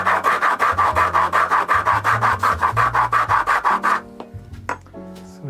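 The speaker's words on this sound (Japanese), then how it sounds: "これだけガリガリに尖ったヤスリでこう削るじゃないですか" A coarse rasp files a hard leather shoe sole in a bespoke shoemaking workshop: about sixteen quick, even back-and-forth scraping strokes, loud and close, then a clink or two and quieter handling noises.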